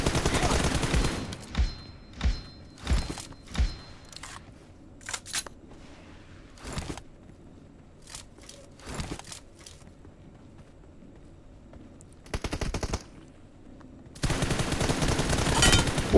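Gunfire in a mobile shooting game: a few sharp shots in a short burst, then scattered single reports and a sustained stretch of loud fire near the end, with quiet gaps between.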